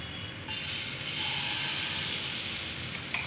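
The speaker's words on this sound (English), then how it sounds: "Alright, we'll add some cheela now" Cheela batter ladled into a hot pan bursts into a loud, steady sizzle after a brief quiet moment, and the hiss keeps going without pause.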